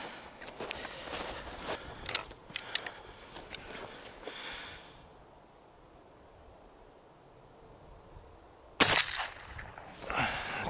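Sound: shotgun shot

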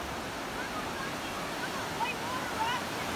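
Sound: rushing water in Johnston Canyon, Banff

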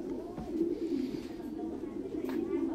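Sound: Thai Titan pigeons cooing

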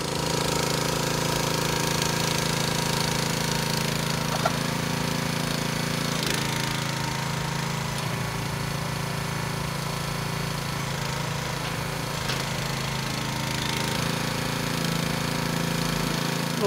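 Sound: minidumper 9 hp engine running, hydraulic tipper

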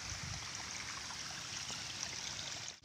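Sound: water overflowing from a box in a rice field

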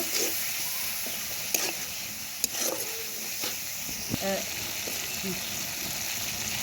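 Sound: stirring spices (cumin, garam masala) frying in a pan

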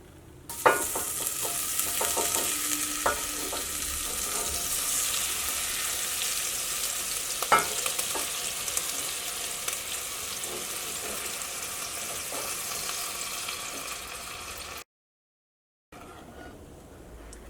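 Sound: butter melting and sizzling in a heavy pan

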